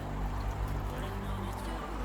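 Water poured into a bowl of crayfish being rinsed of sand for okra soup, a steady close trickle and splash under a low background hum.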